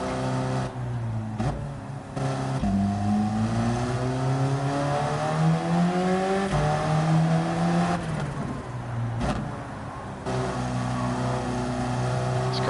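A GT3 race car in Gran Turismo 7 revs continuously, its engine pitch climbing through the gears with brief dips at upshifts. The engine is loud and steady throughout, and no one speaks.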